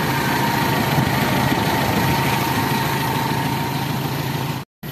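Toyota 4K engine idling steadily after a timing chain replacement, a close, even mechanical hum with constant low rumble and no audible chain noise, cutting out briefly near the end.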